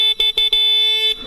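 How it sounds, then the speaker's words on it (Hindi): A loud, steady electric horn on a Honda Shine 100 motorcycle blares close up, with a few quick taps breaking it into short bursts before one longer honk. "आप हॉर्न का कुछ साउंड इस तरह से सुन सकते हैं।"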